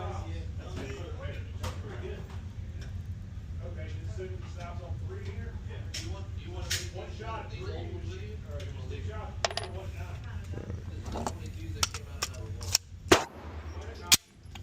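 Several sharp shots from a Glock 45 Gen 6 pistol at a shooting range, mostly near the end, over a low steady background hum. Speech can be heard in the clip, and fainter bangs from other shooters sound earlier.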